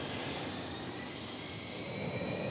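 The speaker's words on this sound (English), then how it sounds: "We'll bring it out to a run-up area and check engine performance." A LearJet engine runs up at a run-up area, giving a steady, loud jet roar and whine that holds level throughout, with no voices.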